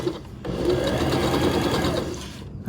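A sewing machine back stitches a fabric tote bag, running in a fast, even mechanical whir for about two seconds. It starts after a brief pause and stops cleanly near the end.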